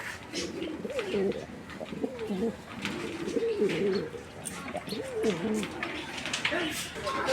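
Pigeons coo repeatedly in low, rolling bursts through the whole stretch, close by, with a busy background of other birds and noise.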